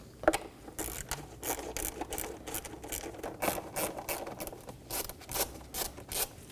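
An 8mm socket wrench loosens airbox hose clamps on a Dodge Durango, making rapid close ratcheting clicks in uneven bursts with light rubbing between them.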